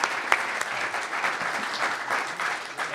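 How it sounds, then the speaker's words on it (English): Steady applause from a forum audience honoring three speakers at a Louisville Forum planning and development program, dense and sustained, fairly soft and even throughout with no voices over it. "So we'll give a big round of applause."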